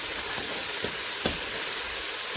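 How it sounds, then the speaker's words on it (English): Carrots, leeks, onion and celery frying in a pan, a loud steady sizzle with a few soft scrapes of stirring, close up and without talk. "Keep it moving, don't let it burn"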